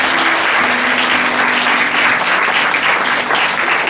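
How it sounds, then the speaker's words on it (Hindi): A church congregation claps in a sustained, dense burst of applause, loud and close, with no break across the whole stretch. "ताली बजाएंगे परमेश्वर की।"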